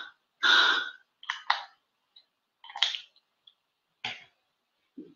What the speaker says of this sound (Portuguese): estou com tosse.